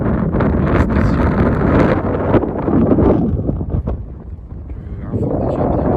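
Strong, steady wind roars and buffets the microphone in heavy gusts during a January winter storm, with a brief lull before the blast builds again.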